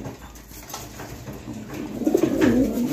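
A single female pigeon offered for sale gives a soft cooing call near the end, rising out of low room noise in a bird market setting.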